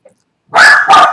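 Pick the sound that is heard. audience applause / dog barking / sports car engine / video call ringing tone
dog barking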